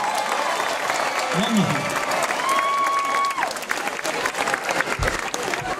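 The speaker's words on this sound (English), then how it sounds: "So give yourselves a big round of applause." Audience applause at a tribute concert carries steadily through the moment, a broad crowd wash with a couple of brief whistles rising above it and someone speaking over it.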